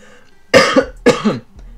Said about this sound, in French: Me demandez pas du tout pourquoi je tousse.